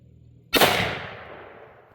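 A single sharp rifle shot from a Cascade SR-80 scout rifle fired at a bottle outdoors, a loud close crack with a long rolling echo decaying over more than a second, with no talk.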